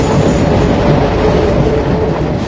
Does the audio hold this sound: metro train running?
yes